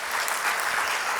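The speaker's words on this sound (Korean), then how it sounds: "우리 박수로 한번 아이들 격려하면 좋겠습니다." Church congregation at a Sunday afternoon service applauding elementary-school children after their performance: a dense, even wash of many hands clapping together, steady and unbroken with no voices.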